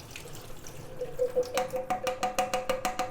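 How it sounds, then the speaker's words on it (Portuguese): Liquid from a can of corn drains into a kitchen sink, starting faint and then falling into quick, bright, rhythmic drips and splashes that sound close. "Eu vou escorrer essa água de milho."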